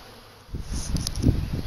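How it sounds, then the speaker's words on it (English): Bees buzz in and out of a swarm trap, a faint hum that swells suddenly into a close, steady drone of many insects with brief louder passes. "there's actually quite a few bees coming and going inside"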